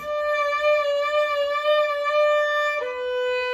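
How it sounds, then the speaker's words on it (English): A single bowed string note is held with a slow, uneven beginner's vibrato wobbling in pitch, then steps down to a slightly lower note, played alone and close. "So for a beginning vibrato for chorus, it's okay to sound like this."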